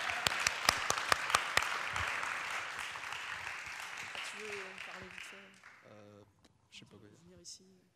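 An audience at a Tanz im August dance event applauds a teacher, with a few sharp individual claps over a crowd's clapping that gradually fades out after about five seconds, followed by people talking.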